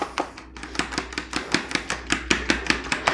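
Eggs being whisked and beaten in a bowl, with about a dozen quick, evenly spaced taps and clinks close by, after a brief pause near the start.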